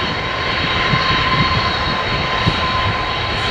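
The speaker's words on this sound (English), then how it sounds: "first KC-10 that's going to take off soon" A heavily fuelled USAF KC-10 tanker jet at the very end of the runway, heard as a loud, steady jet engine roar with a constant whine running throughout, close by and with no talk.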